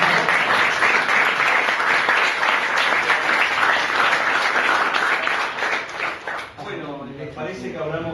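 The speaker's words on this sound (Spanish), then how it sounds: "Entonces lo aplaudimos." Audience applause at a talk on anarchism and the 1930s workers' movement, dense sustained clapping from a room full of people that fades out near the end as a voice begins speaking.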